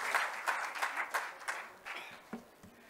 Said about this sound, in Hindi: मैं चाहूँगी कि ज़ोरदार तालियों से हम उनका स्वागत और अभिनंदन करें